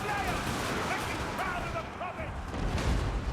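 Massed handgun volleys and cannon fire from a Total War Warhammer 2 battle, a dense continuous din of distant shots and booms with no clear single blasts, mixed under a steady game soundscape.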